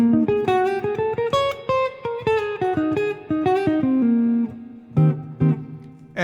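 A long jazz blues lick on a melodic instrument, a run of quick articulated notes that rises and falls over about four seconds, then a few separate punchy notes near the end, played alone with no talk.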